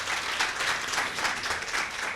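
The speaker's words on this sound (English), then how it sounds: "Let's give ma'am another hand of applause" Close, steady applause from an audience at a first-year nursing students' oath-taking ceremony, a continuous crackle of many hands clapping with no talk.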